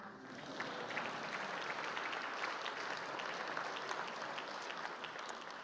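Sustained applause from a congress audience in a church federation assembly hall, dense and steady throughout, with a broad wash of many hands clapping at even loudness and no voices standing out.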